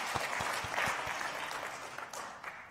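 An audience at a closing plenary gathering applauds, with a few distinct early claps quickly merging into a faint, dense patter of clapping that fades slightly toward the end.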